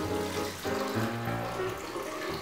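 Hot water pours steadily into a blender jar for an elixir latte, a soft continuous splashing and trickling at close range with no talking.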